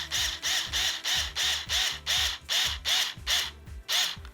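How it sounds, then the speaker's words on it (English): A screw is driven into a Smart Doll Cortex Mirai frame part with a power driver, giving about ten evenly spaced, close mechanical whirring bursts with short pauses between them and no voices. "So we're going to screw this now."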